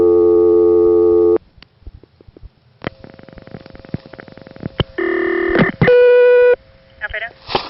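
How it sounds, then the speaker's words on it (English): A 1978 coin telephone line in the Elizabeth City, North Carolina area produces a series of electronic call-progress tones when dialing the operator: a steady buzzing tone, clicks, then short bright multi-pitch beeps, with faint voices at the end. "there's a class of service tone to let her know that I'm calling from a coin phone"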